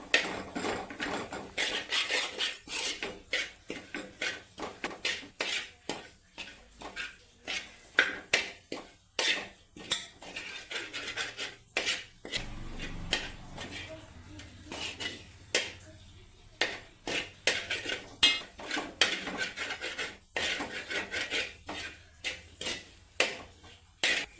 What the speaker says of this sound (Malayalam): ഇവയെല്ലാം നല്ലപോലെ ഇളക്കി മിക്സ് ചെയ്തെടുക്കുന്നുണ്ട്